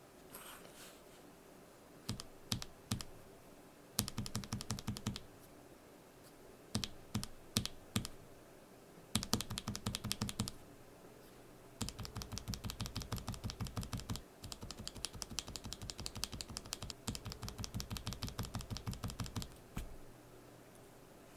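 Gateron Yellow KS-3 linear switches clatter under fingertips on a mechanical keyboard, first in short scattered bursts of keystrokes, then in long fast continuous runs of close, crisp typing, with no talking.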